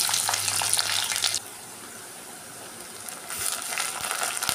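Cumin and mustard seeds crackle and sizzle in hot oil, a close, bright frying hiss that drops away briefly in the middle and then returns.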